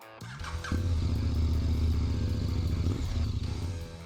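KTM 1190 Adventure R motorcycle engine starting up and running, a loud, close rumbling idle with a throaty low pulse that settles into a steady drone before easing off.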